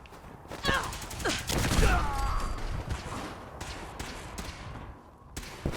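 A grenade goes off during a firefight with the Brotherhood of Steel in Fallout 4: heavy booming thumps and crackling bursts in quick irregular succession, close and loud, with brief voice fragments mixed in.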